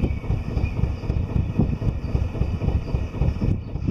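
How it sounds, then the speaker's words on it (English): Gusty wind buffets the microphone beside a newly launched narrowboat on its maiden voyage, a steady low rumble that swells and dips throughout, with no talking. "It's a bit windy, which is playing havoc with everything"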